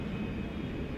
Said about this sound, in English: It's an Airbus A319.